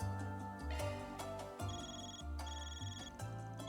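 Phone ringing in the video game Trails Through Daybreak: a repeating electronic ringtone with a steady pulsing rhythm, several rings close and clear over a low game music bed.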